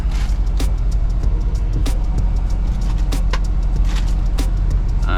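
A semi truck descending a long 7% downhill grade, heard from inside the cab as a constant loud low engine rumble with scattered clicks and rattles over the top, no talking.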